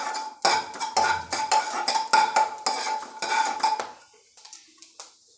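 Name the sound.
mustard seeds and fenugreek roasting in a pan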